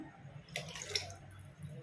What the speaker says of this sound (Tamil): இப்போ தண்ணி ஊற்றிட்டுருக்குறோம்.